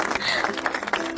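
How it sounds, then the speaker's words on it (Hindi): A group claps together indoors in a Hindi-dubbed drama scene, the applause dense and continuous under a voice talking over it. "तालियां क्यों बजा रहे हो आप लोग?"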